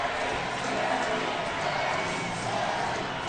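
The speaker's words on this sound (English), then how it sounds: "Terry Ryan's getting an ovation from this crowd right now." Hockey arena crowd giving a standing ovation to Terry Ryan during an ECHL game, Adirondack Thunder: a steady, loud roar of cheering and applause filling the whole stretch without a break.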